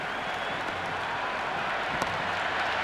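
A cricket crowd at an India versus Pakistan match cheers and applauds a six, a dense, even wash of distant clapping and roaring that holds steady throughout.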